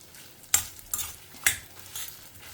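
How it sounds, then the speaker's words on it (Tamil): Copra and spices dry-roasting in a pan, with a spatula stirring and scraping in a few sharp strokes over a faint crackle. "கொப்பரை, இது எல்லாமே நல்லா செவக்க வறுத்துக்கலாம்"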